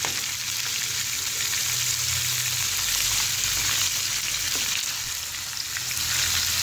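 Onion tossed in with chicken frying in a pan gives a dense, even sizzle with a low rumble beneath, continuous and close, without any speech.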